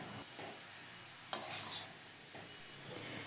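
Cabbage frying in a pan over a medium gas flame, a faint steady sizzle broken by a few soft scrapes and knocks of stirring, quiet and close.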